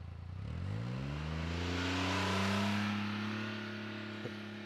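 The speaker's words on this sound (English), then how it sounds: "now we're going to have Chris go to the sport mode, and we're going to listen to this one as he accelerates away" Polaris Ranger XD 1500 side-by-side accelerating away in sport mode, its engine note climbing steadily in pitch as it pulls off, loud and close with no talking over it.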